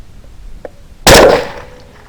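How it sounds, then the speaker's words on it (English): A single loud Grendel rifle shot firing a Hornady V-Max bullet at a skunk cracks out of near silence outdoors, then rings and fades in a short echoing tail. "my goal at this point is to shoot one skunk, turn, and shoot the other one"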